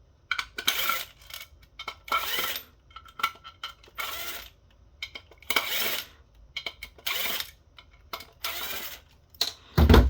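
Small screws are pulled from an RCA four-way satellite multi-switch splitter, model D6520, giving a string of close, sharp metallic clinks and rattles in irregular clusters, with no talking.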